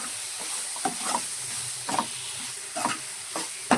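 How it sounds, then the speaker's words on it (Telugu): Bitter gourd pieces coated with salt, chili and garlic paste fry in hot oil for a masala curry, a steady close sizzle punctuated by regular scraping stirs of a spatula in the pan. "ఇవి ఒకసారి ఇలా ఉప్పు కారం అంతా మంచిగా పట్టేలాగా ఇలా ఫ్రై చేయాలి"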